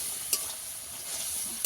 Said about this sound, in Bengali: এখানে দিয়ে ভালো করে নিয়ে মশলাটা কষিয়ে নেব।